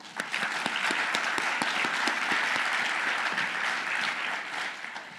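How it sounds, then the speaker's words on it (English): A crowd at a university summit applauds a speaker, dense steady clapping with some sharp individual claps standing out, sustained evenly and easing slightly at the end. "Let's give him one more round of applause."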